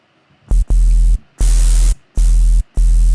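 Short bursts of low tone alternate with a hissing wash of noise layered over the bass, each segment starting and stopping abruptly.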